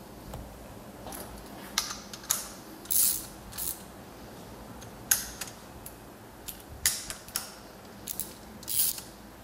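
A ratchet tightening bolts on a TDI engine during timing belt work, giving a scatter of short, faint clicks at irregular spacing over a low background hush.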